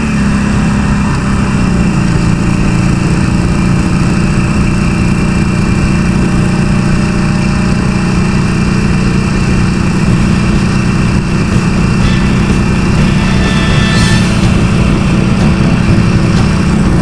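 A Harley-Davidson Sportster motorcycle engine runs with a steady, loud, throbbing low drone throughout, close and unbroken, with no talking.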